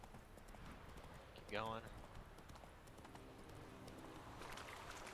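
A video game horse wading through swamp water, with muffled hoof splashes under a low ambient bed and one short spoken phrase.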